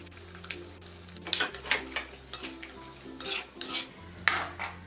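Cleaned prawns dropped into a pan and stirred, with clinks and scrapes of a utensil against the pan in irregular bursts over a faint low sizzle, close by.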